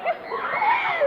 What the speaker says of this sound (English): Okay, let's scream. Let's take a scream.